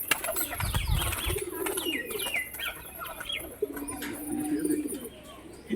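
A face beauty pigeon flapping its wings in a burst near the start, then cooing and bird calls around it, close and moderately loud.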